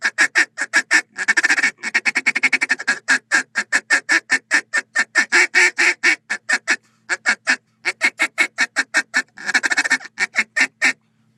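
A duck call imitates ducks flying over: rapid, loud quacking bursts in quick runs with short pauses between series, close and alone.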